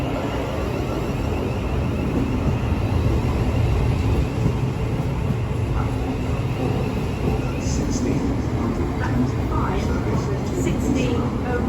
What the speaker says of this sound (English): It's also incoming now is the 1600 Thameslink service to Horsham from Peterborough.